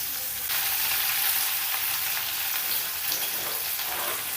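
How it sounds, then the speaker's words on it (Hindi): Onions frying in a pan while being stirred, a steady bright hiss of sizzling oil running throughout, close and even in level, with no voices. "पियाज को किछि समय पई एपट सेपट करी फ्राई कर नवा"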